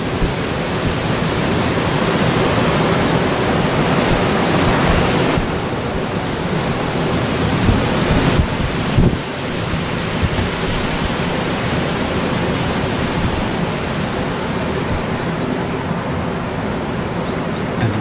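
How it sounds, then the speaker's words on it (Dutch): Strong wind blowing during storm Eunice in 's Heerenberg, a loud continuous roar of gusts buffeting the microphone, with brief dips and surges in intensity but no letup. "Het waait al echt goed hard."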